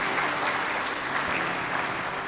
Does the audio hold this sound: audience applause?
yes